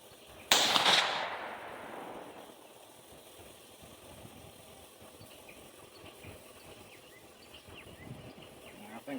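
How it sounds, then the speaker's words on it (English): A single sharp rifle shot fired while zeroing a CVLife Eagle Blaze 5-25x56 scope, loud and close, ringing out for about a second before quiet outdoor background with a little faint talk. "Go ahead and fire another one just to confirm."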